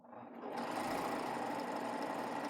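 A Bernina L890 serger stitches along a fabric edge. After a brief quiet start it whirs up into a fast, steady, close mechanical hum that stays even to the end.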